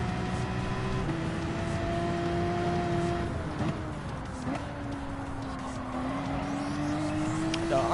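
Race car engines in Gran Turismo 7 drone steadily with shifting pitch as cars run near the pit exit, a continuous loud whine with some gear changes, while a voice talks over the top.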